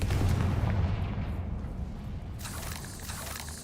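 Confringo fire spells blasting in the Hogwarts Legacy video game, with a heavy booming burst at the start whose rumble fades, then a sharper crackling impact near the end, no talk.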